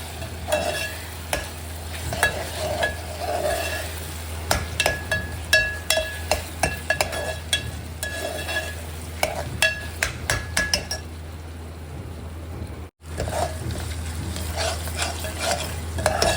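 Garlic paste fries in oil in a pan with a soft sizzle while a utensil scrapes and clinks against the pan in a steady run of stirring strokes.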